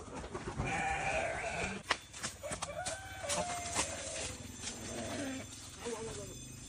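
Sheep bleating on a farm set during a Sundanese comedy sketch, the calls mixed with goat-like and fowl noises under ongoing dialogue.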